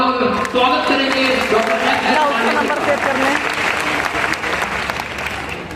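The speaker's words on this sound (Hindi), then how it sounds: "तो क्या आप एक बार जोरदार तालियों से स्वागत करेंगे" An audience at a seminar in Prayagraj bursts into loud, dense applause to welcome a speaker. The clapping is sustained for several seconds and gradually tapers off.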